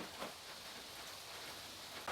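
Steady rain falls on a cold, windy July day at a UK vegetable allotment, a continuous soft hiss with faint patter and a couple of slightly louder gusty bursts, no voices.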